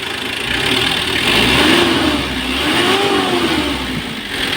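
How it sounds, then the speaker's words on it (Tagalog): Mitsubishi L300 engine with black smoke, revved in a couple of rising and falling swells over a loud idle, close and continuous with no talking. "So pag ganyan siya, nirib mo siya"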